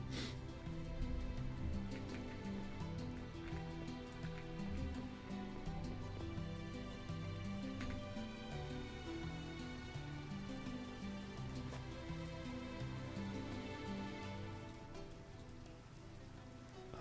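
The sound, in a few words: rain in Minecraft, video game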